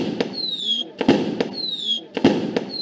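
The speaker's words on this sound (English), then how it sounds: "there's just going to be all these different fireworks that will explode" Cartoon fireworks in a Scratch animation for the 4th of July, with rising whistles that end in loud crackling bursts, repeating roughly once a second with no voices.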